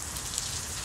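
Rain falling outdoors, a soft continuous hiss of drops on surfaces, faint and steady with no other sounds.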